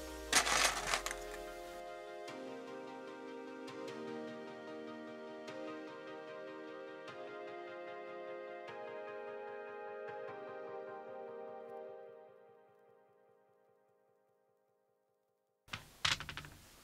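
Keys being pressed back onto the keyboard of an old Sony Vaio PCV-LX1 desktop give a series of sharp plastic clicks and snaps, close by, then the sound fades into silence before a final clatter.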